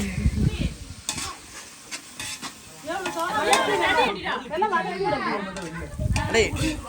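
Onions sauté in a pan for festival-feast biryani, crackling and sizzling with stirring under loud, overlapping talk and background chatter.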